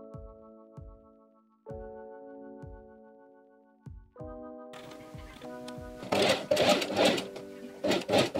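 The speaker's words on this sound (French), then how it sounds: "je peux les coudre ensemble" A domestic sewing machine stitches two fabric pieces together for a ruched skirt. It runs in short rhythmic bursts with pauses between, then a louder continuous stretch toward the end, mechanical whirring and clatter with no talking.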